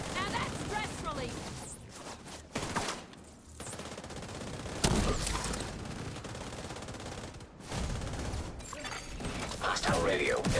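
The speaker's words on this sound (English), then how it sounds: "I hear gunfire." Bursts of rapid automatic gunfire and sharp mechanical clatter come and go amid game-like effects, with people talking over parts of it.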